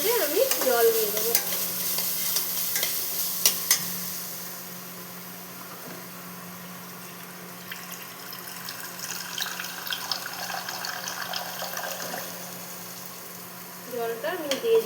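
Water poured into oil-fried spice masala in a pan for a bata fish curry sets off a loud hissing sizzle and spluttering. The sound eases in the middle, then swells again with bubbling and stirring.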